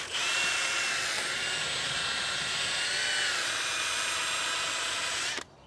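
A power drill spinning a dryer vent cleaning brush whirs steadily at high speed for several seconds, close and loud, then cuts off abruptly near the end.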